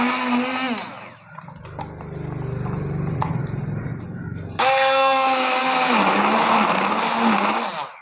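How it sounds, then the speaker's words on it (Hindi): An electric kitchen blender whirring loudly as it purees dates with tamarind pulp for chutney, running in two bursts with a short lull between, the motor pitch shifting as the load changes. "ये जो हमारे पास खजूर है इसको हम ब्लेंड करेंगे। ये इस तरीके से इमली का पल्प डाल के"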